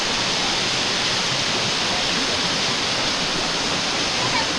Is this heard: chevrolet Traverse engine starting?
no